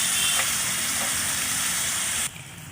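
Broth hits a hot pan of greens and moringa drumsticks with a loud, bright hissing sizzle that holds for about two seconds, then drops abruptly to a quieter simmer.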